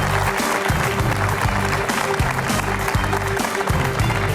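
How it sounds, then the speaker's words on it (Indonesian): An audience at an economics forum applauds a parliament member as he is introduced, with steady clapping running throughout over a repeating musical backing. "Kita berikan tepuk tangan untuk Pak Satya"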